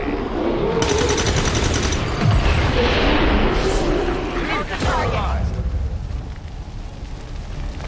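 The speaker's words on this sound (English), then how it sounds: "The loud explosion draws the Lost swarm closer." Loud explosion in the zombie-survival video game Human Supremacy Simulator, a sustained blast with crackling debris that draws a swarm, over constant game noise; some speech may be mixed in.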